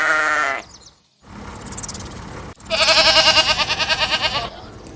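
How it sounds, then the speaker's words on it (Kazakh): A sheep bleats in quavering, wavering calls: a short bleat, a gap of near-silence, then a longer, louder, trembling bleat that rises and holds before fading, heard close and with no talk. "Қой, қой"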